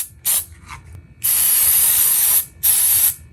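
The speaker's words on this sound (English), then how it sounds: "blow it out with compressed air at that point and hope for the best" Compressed air blasts in loud hissing bursts to clean out a drone that was lost outdoors and is caked with red clay, two short puffs followed by a long spray and another short one.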